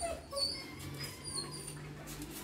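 A dog whimpering softly during recall training, thin high whines repeating over a few seconds with a low steady background hum, fairly faint.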